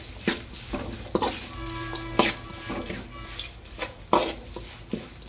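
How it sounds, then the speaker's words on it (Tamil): Onions sizzle gently in a pan on a medium flame while being cooked for karamani sundal, with a spoon repeatedly scraping and knocking against the pan in an uneven stirring rhythm, heard up close. "வெங்காயம் போட்டு நல்லா வதக்குங்க."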